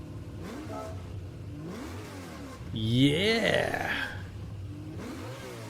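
A 4-litre V8 engine revs in a racing game, the pitch climbing and falling in smooth sweeps and peaking in one loud high rev, while someone talks over it.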